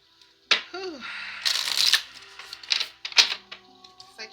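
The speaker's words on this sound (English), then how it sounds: "One more shuffle." Oracle cards shuffled by hand in quick riffling bursts, close and crisp, with a short pause between shuffles and a faint voice underneath.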